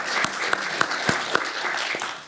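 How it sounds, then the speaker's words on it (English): Audience applause for the Trevor Project at an advocacy talk, a short burst of light clapping with a few distinct sharp claps standing out, fading after two seconds. "clap it up for the Trevor Project."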